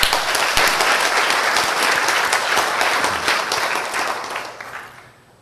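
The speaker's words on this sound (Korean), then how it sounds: "박수를 치시려면 큰 소리로 박수를 쳐주시길 바랍니다." A church congregation applauds in a loud, sustained wave of clapping that gradually fades out toward the end.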